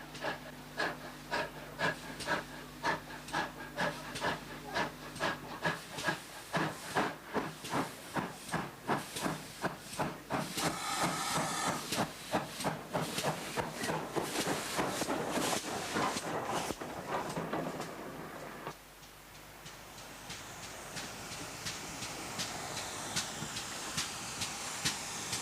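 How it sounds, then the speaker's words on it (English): GWR pannier tank steam locomotive 7752 on the South Devon Railway chuffs in rapid rhythmic beats that quicken, then settles into a continuous loud hiss of escaping steam. "These pannier tanks were very powerful for their size, free running and with excellent acceleration."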